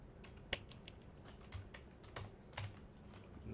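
Computer keyboard typing while writing Python code, a quick run of light, close key clicks at an uneven pace, with one sharper tap standing out, over a quiet room background.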